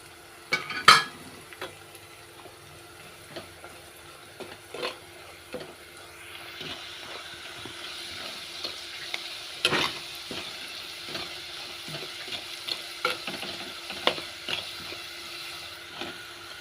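Chilli and turmeric powder frying with curry leaves in a pan, a steady soft sizzle with frequent scraping stirs and light clinks of a spoon against the pan throughout, close and without speech.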